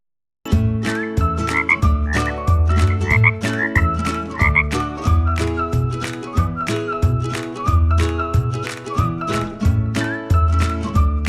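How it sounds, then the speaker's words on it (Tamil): A frog croaks loudly and close, in rapid repeated bursts with a steady rhythm, alone and without voices. "Frog croaks."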